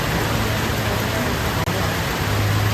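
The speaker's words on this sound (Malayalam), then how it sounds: "ഗൈസ് നമ്മുടെ ട്രിപ്പിൻ്റെ തുടക്കം തന്നെ നല്ല അടിപൊളി മഴയാണ്." Heavy rain pours down in a dense, even hiss, loud and close throughout, with a low steady hum beneath it.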